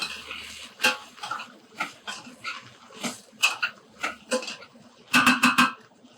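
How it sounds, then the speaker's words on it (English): A spoon stirs diced onion into a healthy winter casserole in a pot. It makes a series of scraping clinks against the pot, with a quick cluster of sharper clatters near the end, close by and with no talking. "we're going to go and add our diced onion as well now. Give it a little stir."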